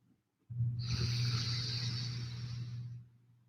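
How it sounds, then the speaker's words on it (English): Deep, steady breath during a Kundalini yoga breathing exercise, a loud sustained airy exhale lasting about two and a half seconds with a low resonant rasp underneath, close to the mic, with no talking. "So big inhales and slow exhales."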